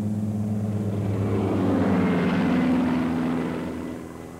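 A propeller plane drones overhead, its low engine hum swelling to a peak midway and then fading as it passes.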